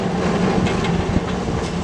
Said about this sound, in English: After 832 clears County Home, Pittsburgh Railway's 1711 pulls through the siding's west switch, with 4004 following suit